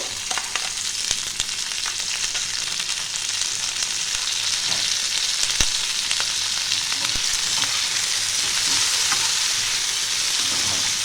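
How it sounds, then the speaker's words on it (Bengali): Sliced onion and tomato fry in a pan with a steady, close hiss and sizzle, broken by occasional stirring scrapes and crackles. "এটা হালকা করে ভাজবো, খুব ভাজার দরকার নেই।"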